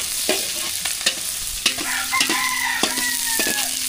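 Onion and garlic sautéing in a hot pan, a steady close sizzle broken by sharp scrapes and clacks of a stirring utensil, while a rooster crows in the background.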